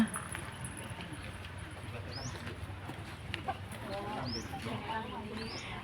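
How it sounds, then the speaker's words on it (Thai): Two chickens give a few brief, high cheeps at intervals, faint beneath a person talking outdoors. "อ๋อมีไก่ด้วยนะมีไก่สองตัวนะ"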